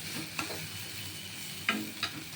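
Soybean chop filling frying in a pan, with a soft continuous sizzle broken by a few separate spatula scrapes as it is stirred, quiet and close with no voices.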